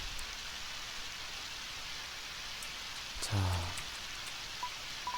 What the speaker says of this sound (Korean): 요 앞에는 비가 오니까 말이야